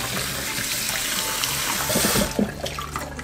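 Cold winter tap water runs steadily over a blanched spiny lobster, a close, continuous rushing splash. It breaks into a few sharper splashes and softens toward the end.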